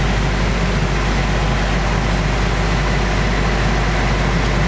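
A loud, steady drone of MTU main diesel engines in a 34-metre motor yacht's engine room, with a heavy low hum, continuous and unchanging throughout, with no voices.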